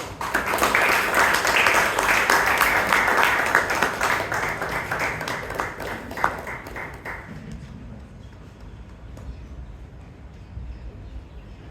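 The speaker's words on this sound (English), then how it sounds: "Please welcome with a big round of applause, Sheeb Kumar." Audience applause at an anniversary Toastmasters club meeting in Bangalore, a dense, sustained clapping from a full room that holds steady for several seconds, then thins out and fades into scattered claps and room murmur.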